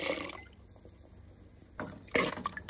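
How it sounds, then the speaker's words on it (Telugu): Water is poured into a simmering curry of dal, tamarind juice, chili powder and salt, heard as two short, close splashing pours separated by a quieter pause. "కొద్దిగా వాటర్,"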